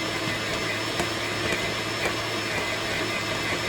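A stand mixer kneading almond raisin loaf dough, giving a continuous loud motor whir with faint regular thumps as the dough turns in the bowl.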